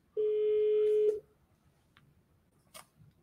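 A failed phone call produces a single steady electronic telephone tone lasting about a second, clear and close. Near-silence follows, broken only by a couple of faint clicks, with no one talking.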